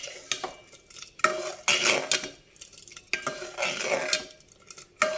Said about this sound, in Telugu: బెల్లం వేసుకుందాం.